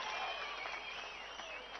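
An audience at a political speech in Telangana applauds, a steady, dense wash of clapping from a crowd heard at a distance and slightly muffled throughout.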